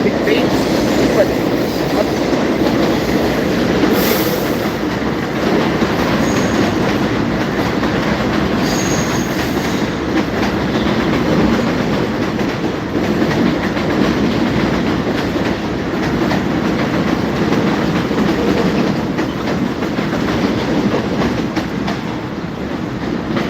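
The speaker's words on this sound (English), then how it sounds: "that train driver just try to slow down the train" A train passes close by and slows, its wagons rumbling steadily with clattering wheels and brief high squeals throughout.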